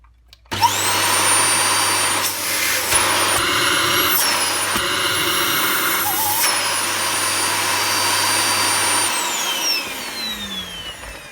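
Dyson DC25 upright vacuum cleaner switched on, whining steadily and loud with a high motor pitch for several seconds before spinning down.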